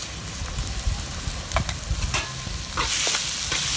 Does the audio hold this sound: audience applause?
no